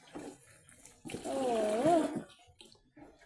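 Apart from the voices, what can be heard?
fetched water pouring out of a leaking container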